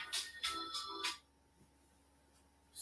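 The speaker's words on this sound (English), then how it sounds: "the phone's ringing when I'm doing the show" A phone ringtone chirps in three quick bursts, fairly faint and alone, followed by near silence.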